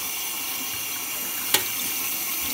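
Running tap water streams steadily while sprouted wheat is rinsed in a strainer for sohan halwa, a soft continuous hiss of flowing water with one brief splash partway through and no talking.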